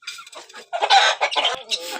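Several hens cluck and squawk in alarm in a farmyard coop, a noisy, close burst of overlapping agitated calls in quick irregular bursts.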